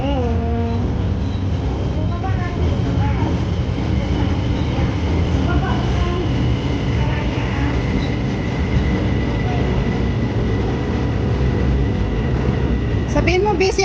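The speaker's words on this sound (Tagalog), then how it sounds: "Ayan na yun ang train. Ayan ang train dito." A train rolls past with a continuous loud rumble and rattling that hold throughout, and people talk over it.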